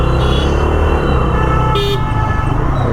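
Dense road traffic with a steady engine rumble close by, while car horns toot repeatedly over it, including one sharp, brief honk standing out in the middle.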